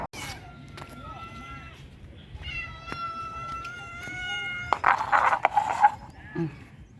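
A hungry cat meows repeatedly at feeding time at home, a string of clear, close, drawn-out calls with a few rustling noises and some faint background animal sounds.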